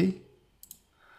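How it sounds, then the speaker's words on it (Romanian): Two quick, soft mouse clicks close together, made while working in AutoCAD Civil 3D, near and faint in an otherwise quiet room. "Selectăm main road, aici selectăm material, dăm click pe OK"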